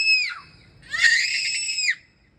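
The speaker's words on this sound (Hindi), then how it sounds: "रात को ऐसे नहीं चिल्लाते।" Young twin children scream shrilly at night on a balcony, two loud high-pitched shrieks, the second longer and sustained, heard close up with no talking.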